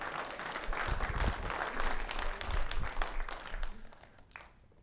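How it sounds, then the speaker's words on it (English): Applause from a church congregation, a steady wash of many hands clapping at moderate distance that thins out toward the end, with a few low thumps underneath. "Give him a round of applause"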